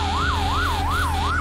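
A fire truck siren in a firefighting simulator game wails steadily up and down in a regular rising-and-falling cycle, loud and close over a low engine drone, with no talking.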